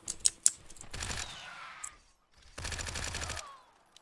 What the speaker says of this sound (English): I'm glad to hear this shotgun turret we're working.